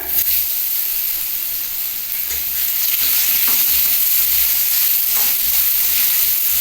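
Potatoes frying in a pan for a mixed-vegetable moong dal, with a steady, loud, close sizzle and hiss that holds throughout, along with light stirring scrapes and no voices.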